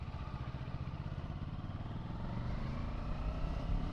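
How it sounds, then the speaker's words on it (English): A 2022 Kawasaki Versys 650 touring motorcycle engine running steadily during a test ride, with a low, continuous throttled rumble that swells slightly toward the end and no speech over it. "Yeah, the engine pulls from low down"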